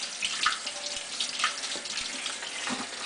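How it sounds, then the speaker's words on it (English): Cold water runs from a tap over sauerkraut being drained in a sink, a steady close hiss of flowing water with small splashes and no talking. "you want to make sure that you drain it in cold water"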